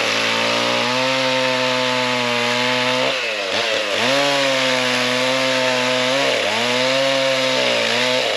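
A Husqvarna chainsaw roars steadily while cutting down a small tree during selective logging, loud and close throughout, its engine pitch dipping and recovering under load several times.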